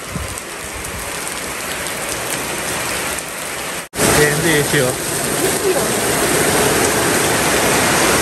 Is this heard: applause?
no